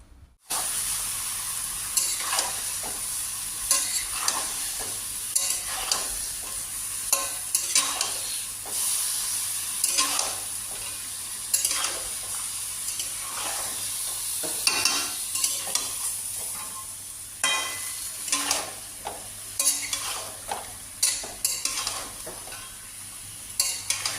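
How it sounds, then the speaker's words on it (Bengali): Meat being stirred in a hot pan, frying with a steady loud sizzle and hiss, broken by repeated scraping stirs of a utensil across the pan, with no voices. "একটু মাংস রান্না করি।"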